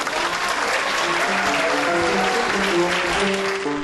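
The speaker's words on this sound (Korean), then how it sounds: "강신철 씨를 큰 박수로 모시겠습니다." Audience applause welcoming a speaker to the stage at a science communication competition final, a dense, even wash of clapping from a large crowd.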